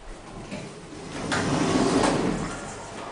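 An Otis Series 4 hydraulic elevator door in a hotel parking garage slides open and closed with a rough, grinding operator, a broad rumbling whoosh that swells midway and fades, steady and fairly close.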